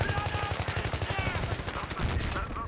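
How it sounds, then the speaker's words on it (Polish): Rapid automatic gunfire in a Battlefield-style multiplayer shooter game, set during an assault on a supermarket, with dense repeated shots in quick bursts throughout and the shooter under fire from behind. "Czemu z tyłu ktoś do mnie strzela?"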